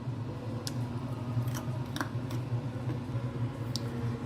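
Carrots are cut in a kitchen, making a few sharp, separate crunchy cuts at an irregular pace over a low background hum.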